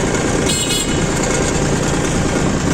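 A Hinomoto N329 tractor engine runs loud and close in a steady, unbroken drone, with no one speaking.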